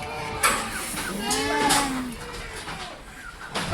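Several goats bleat in overlapping calls nearby, with some rustling and shuffling of animals in the background.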